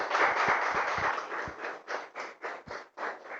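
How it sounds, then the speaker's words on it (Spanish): A church congregation claps together in brisk rhythmic applause, loud and steady at first, then breaking into separate, more distinct claps as it thins out. "Casi le damos un aplauso fuerte al Señor."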